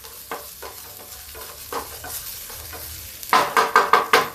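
Hot oil sizzles steadily as spices are tempered, while a spoon scrapes and stirs in a pan, with a burst of louder crackling near the end.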